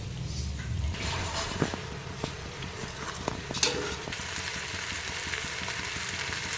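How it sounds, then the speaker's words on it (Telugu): Vegetables sizzle and fry steadily in a pan for veg biryani, a continuous close crackle broken by a few soft clinks and stirring knocks. "బాగా వేగిన తర్వాత దీంట్లో వేసి ఒక 2 minutes వేపాలి"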